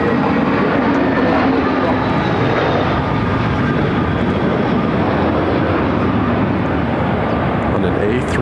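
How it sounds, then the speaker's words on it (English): An American Airlines Airbus A321 arriving from San Diego makes a loud, continuous roar that holds steady throughout, with voices talking over it. "This American flight's coming in from San Diego."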